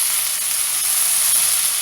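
Chopped ridge gourd (peechinga) sizzles loudly in a hot pan with chillies for a chutney, a constant close frying hiss without a break and with no speech.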